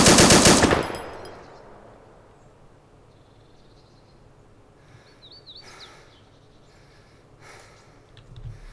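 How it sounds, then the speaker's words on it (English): A gun fires in ARMA 2 with the I44 mod, a loud rapid burst at the start that quickly fades, followed by a quiet ambient background with faint chirps. "this gun's hard to shoot with."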